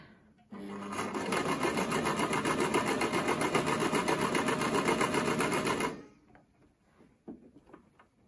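Brother XL-5600 sewing machine stitching program 7, a fast rhythmic mechanical whir that starts abruptly, runs steadily for about five seconds close by, then stops, followed by faint handling clicks.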